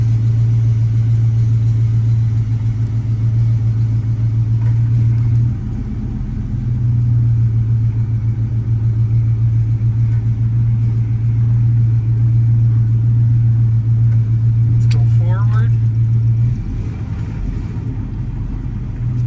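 Ford OBS pickup truck backing up, with a steady loud low engine rumble holding at idle-like revs throughout, dipping briefly twice, and faint clicks near the end.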